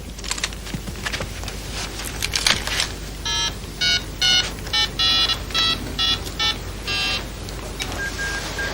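A telephone being dialed: a rapid series of distinct touch-tone beeps, evenly spaced and moderately loud, over a low background hum, with no one speaking.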